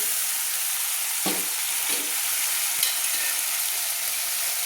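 Tomato cooks down in hot oil for a green-pea ghugni, producing a dense, even sizzle close by with a couple of brief stirring scrapes.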